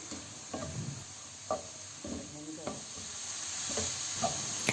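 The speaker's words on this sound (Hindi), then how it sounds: "चिकन को अच्छी तरह से मिक्स कर लेंगे।" Chicken tossed with black pepper and dry coriander in a pan gives a soft, continuous sizzle of frying, broken by scattered scrapes and taps of a spoon stirring, with no voices.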